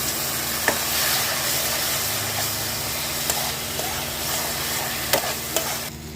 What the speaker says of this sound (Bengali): অল্প পরিমাণে আমি জল দিয়ে মশলাটাকে ভালোভাবে কষিয়ে নেব